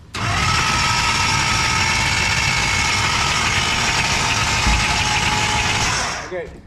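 Race car engine running steadily at a constant loud drone, close up and with a bright, buzzing tone, before cutting off abruptly at the end; a voice is faintly present.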